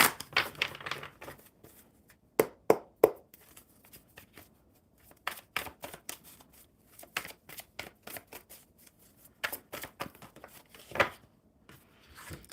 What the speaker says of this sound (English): one more good shuffle for Bob.